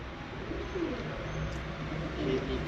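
A pigeon coos softly in a breeder's loft, a couple of low murmuring calls close by against a quiet background, with no talking.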